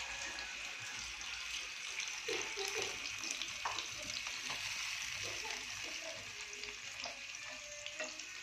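Ground masala paste with chillies frying in a pan for egg curry, a steady hissing sizzle with scattered soft stirring scrapes, fairly quiet throughout.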